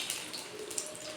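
A cup of water is poured into a pan on the stove while cooking a cashew sweet, making a brief, close, splashy pour with no talk over it.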